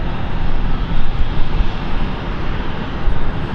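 A Lufthansa airliner departing London City Airport for Frankfurt, a loud, close engine roar that rumbles and swells continuously throughout with no talking.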